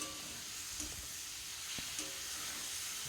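Prawns and cauliflower cooking in a pan, a steady low sizzle and hiss with a few faint stirring clinks, heard from close by without talk.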